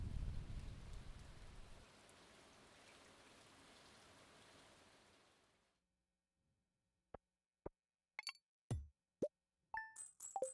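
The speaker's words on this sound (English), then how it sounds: "It's storming, or it's raining." Steady rain hisses through a stormy day in the farming game Stardew Valley for about five seconds, then stops, leaving silence broken by a few sharp clicks and plinks.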